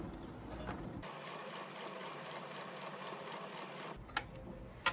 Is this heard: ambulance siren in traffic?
no